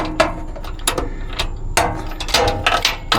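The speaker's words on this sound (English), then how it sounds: "Once I get it loose a little bit" A ratchet driver with a wobbly extension works nylock-style bolt nuts loose during transmission servicing on a Workhorse P32 motorhome, a close series of sharp clicking ratchet bursts in an uneven rhythm.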